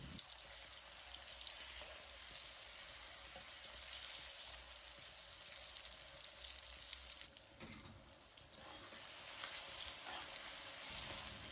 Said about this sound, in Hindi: एक कढ़ाई में आधा कप ऑयल ले लिया और 2 दरमियाने साइज़ के प्याज काट के डाल दिए।